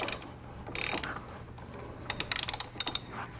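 A ratchet wrench with a 10 mm socket loosens a battery terminal nut, giving two bursts of rapid, crisp metallic clicking, one short and one longer and more broken up, close by with no talk.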